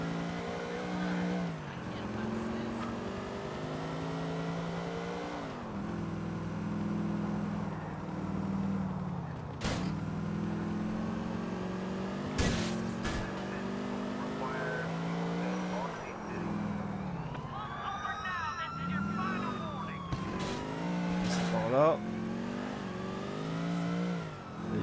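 A car in GTA IV drives and revs steadily with shifting engine pitch and occasional sharp knocks, a continuous loud engine drone lasting throughout, with talk over it.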